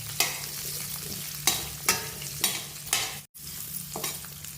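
Ginger frying in oil with a little turmeric for pickle, stirred in distinct scraping sweeps roughly every half second over a steady oily sizzle, close and clear, with one brief dropout.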